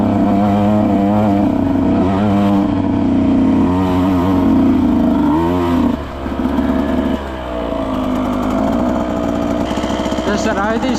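Husqvarna TE 125 motorcycle engine revving nearby on a washed-out trail, rising and falling in pitch with a brief drop around the middle before picking back up.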